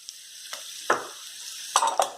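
Nutmeg, fenugreek, cinnamon and cloves dry-roast in a pan, heard as soft scraping stirs and light crackles in a few short bursts over a quiet background.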